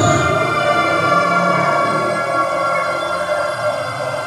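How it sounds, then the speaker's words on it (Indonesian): An ambulance siren sounds steadily and loudly throughout, a sustained wailing tone that fills the scene with no talking. "kayak gandeng ku ambulan."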